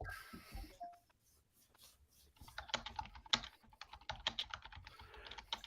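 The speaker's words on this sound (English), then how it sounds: "Serious typing." A computer keyboard clatters as someone types during a live tabletop role-playing session, a short burst of keystrokes, then a near-silent gap, then quicker, denser tapping with sharp individual clicks close to the mic.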